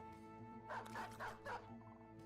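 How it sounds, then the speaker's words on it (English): Hound in the Battle Brothers video game giving three quick, faint barks in a row over a soft, steady background hum, with no talking. "It's another hound."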